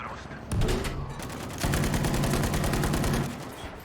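Rapid machine-gun fire from a tank's mounted gun in Battlefield V, two loud bursts of fast, evenly spaced shots with a short pause between them, with someone speaking faintly underneath.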